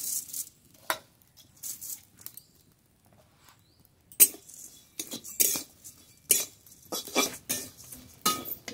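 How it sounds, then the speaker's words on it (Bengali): A utensil scrapes and knocks around a wok while flattened rice (chira) fries, producing uneven bursts of metallic scraping and light clinks with brief quiet gaps. "বাকি চিড়ে একইভাবে ভেজে নেব।"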